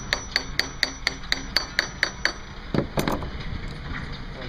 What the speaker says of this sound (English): Use our hammer just to tap it up in there.